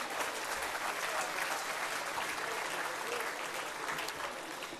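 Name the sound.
audience applause for award winner John Stockbridge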